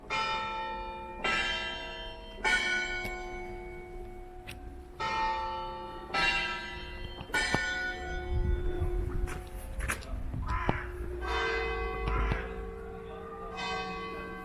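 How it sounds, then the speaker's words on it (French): A church bell ringing in a small bell tower, struck repeatedly at uneven intervals with long ringing decays, moderately near and heard alone over faint background noise. "La cloche, elle sonne bizarrement."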